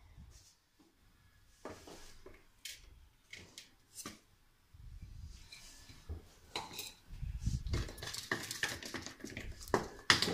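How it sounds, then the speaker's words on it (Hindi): Sugar is mixed into beaten eggs for a sponge cake batter, heard as bursts of clinking and scraping of a utensil against a bowl, sparse at first and growing busier and louder toward the end. "ये हमारी शुगर मिक्स हो रही है।"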